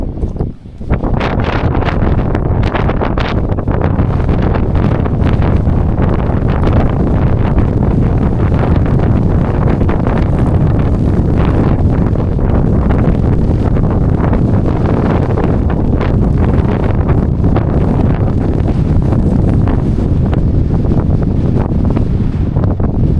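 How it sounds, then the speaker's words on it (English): Strong wind buffets a camera microphone on a high mountain hike up a 14,000-foot peak, a loud, constant roaring rumble that fills the whole stretch with no voices. "You see the wind making heaps of sound on the camera."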